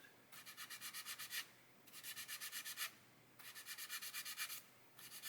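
Fine rhythmic rasping comes from sanding a part of a 1/24 scale Airfix Spitfire Mk.IXc plastic model kit. Quick back-and-forth strokes come in four short bursts with brief pauses, quiet and close.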